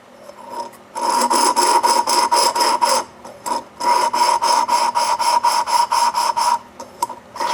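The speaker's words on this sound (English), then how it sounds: "Shouldn't take much lapping because that cutter cut it pretty good." Rhythmic back-and-forth grinding of a valve being lapped on a 1935 Stover engine, a close, gritty rasp repeated in quick strokes with brief pauses between bursts, no talking.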